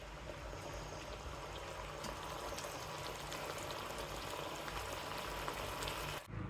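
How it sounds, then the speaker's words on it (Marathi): Soup noodles boil on a gas stove in a steady, dense bubbling hiss that stays even and close throughout, ending with a brief dip, with no talking. "आपले नूडल्स अजून 5 मिनिटासाठी शिजू द्यायचे आहेत"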